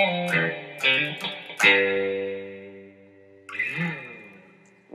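A few plucked electric guitar notes and a chord ring out through a Guitar Rig 4 AC Box amp with the bass cut, a thin, bassless tone, each sustaining and slowly fading.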